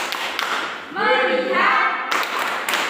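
A group clapping a short patterned rhythm in a classroom, crisp claps before and after a brief chanted voice in the middle, close and fairly loud.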